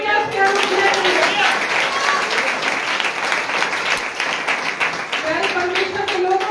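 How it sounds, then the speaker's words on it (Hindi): A church congregation claps loudly together during a Hindi sermon, sustained applause over the full stretch with a voice audible beneath it. "जोर से ताली बजाओ इसके अनुग्रह के लिए।"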